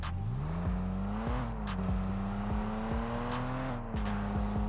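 A Ford 4x4 truck engine revs in the video game Rocket League, a loud continuous drone whose pitch climbs, holds and dips, with repeated sharp clicks on top and no talk.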